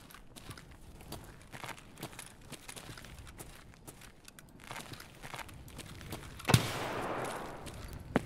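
Scattered, fairly faint gunshots from the shooter Escape From Tarkov crack at uneven intervals over footstep-like shuffling, building to a louder, sharper burst near the end, with no talking.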